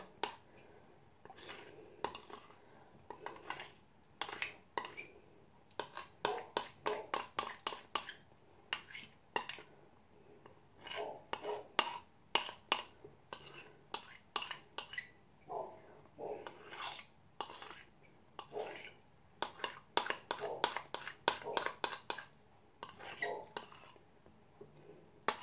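Cocoa and milk mixture stirred into icing and butter in a bowl: a quiet, close series of irregular scraping and clinking strokes from a utensil against the bowl, coming in quick bursts with short pauses.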